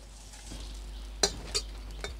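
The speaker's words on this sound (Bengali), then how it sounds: "এই শুকনো লঙ্কাগুলো একটু ভেজে নেব" Dried red chillies dry-roasting in a pan without oil for a Bengali jackfruit-seed paste, giving a faint scrape of stirring with a few sharp clinks of utensil on pan, no talk.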